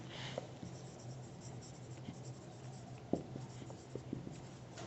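A maths construction for a lines-and-angles geometry problem is written on a board, giving faint, close scratches and taps in an irregular rhythm against a quiet room.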